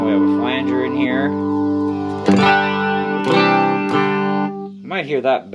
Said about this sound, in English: And we have a flanger in here.